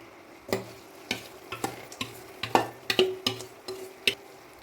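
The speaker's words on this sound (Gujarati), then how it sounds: "હવે આપણે જે લોટ શેકીને રાખ્યો હતો તે આમાં ઉમેરી દઈશું" Roasted flour stirred into hot sugar syrup for adadiya, made by a wedding-caterer confectioner: a series of soft scraping, sloshing spoon strokes in an irregular rhythm, with faint sizzling between them and no talk.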